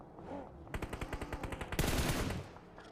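Grenade blasts and rapid gunfire in a PUBG Mobile battle, a quick run of sharp repeated bursts building to a louder, denser cluster of explosions near the end.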